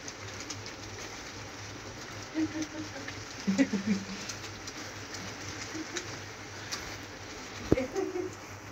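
Pigeons coo faintly in a few short, scattered bursts against a quiet, low background hum, with long pauses between calls.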